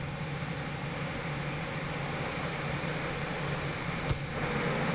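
An airplane taxiing off the runway in the Infinite Flight game, heard as a steady, moderately loud engine drone with a faint hum under it and one brief click near the end.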